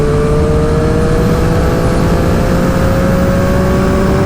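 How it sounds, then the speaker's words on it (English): A Triumph Street Triple R motorcycle at wide open throttle in sixth gear gives a loud, steady, rising engine drone with a strong whirring tone, heard close and continuous under heavy wind rush. "Right now it's wide open throttle, 6th gear. And this thing has got a serious amount of torque."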